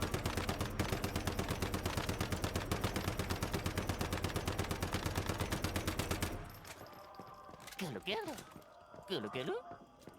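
Rapid automatic gunfire from the video game Once Human rattles in a fast, even burst for about six seconds, loud and sustained, then gives way to quieter game sounds while someone talks.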